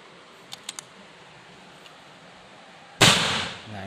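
A Mauser air rifle fires a single loud, sharp shot with a hissing, leaky tail of escaping air, after a few faint clicks in an otherwise quiet setting.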